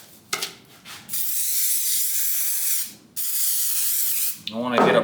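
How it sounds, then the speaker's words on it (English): Spray adhesive hisses from an aerosol can in two long, close bursts, each a few seconds of steady spray separated by a short pause, with brief speech at the end. "Let's spray the adhesive."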